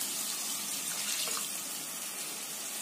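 A tumbler of water is poured into a green beans curry, a soft continuous gush of liquid running throughout, with a brief sharp clink right at the end and no talking.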